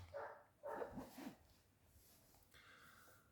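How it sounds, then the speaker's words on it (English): A dog next door barks twice in quick succession a short distance away, the barks fairly faint and followed by quiet background noise. "And there's a barky dog next door."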